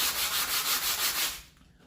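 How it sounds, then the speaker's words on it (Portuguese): Coarse 80-grit sandpaper scrubs back and forth across a resin and fiberglass box in a steady, rhythmic rasp of about six close strokes, then stops and leaves a quiet tail. "Eu, no caso, vou estar lixando com a lixa 80"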